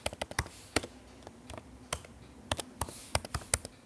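Typing on a computer keyboard produces a quick, irregular run of close, crisp key clicks, some tapped in short bursts and others spaced out, fairly quiet with no talking.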